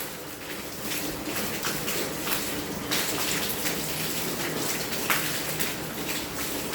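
Steady rain pours down near a porch, a dense continuous hiss with scattered louder drips and splashes close by.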